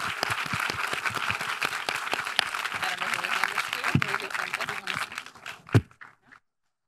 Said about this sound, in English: Let's keep on the applause for Nabia and Francis.